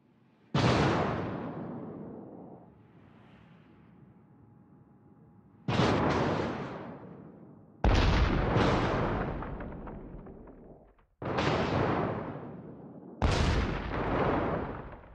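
Warship guns fire in a naval combat video game. Five or six heavy, booming salvos land several seconds apart, each one loud and sharp and then fading into a long rumbling tail.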